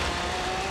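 Steady engine drone of a car in the racing game Forza Horizon 3, a short continuous hum at moderate level with no talk.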